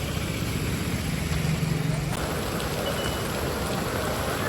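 Heavy monsoon rain in Nalasopara pours down as a steady, loud broadband wash, with a low engine-like rumble underneath during the first two seconds.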